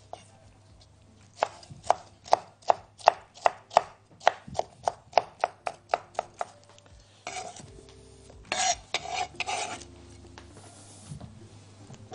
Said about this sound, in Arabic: فلفل الوان بجيبه، الاصفر والاحمر والاخضر هقطعهم برضو مكعبات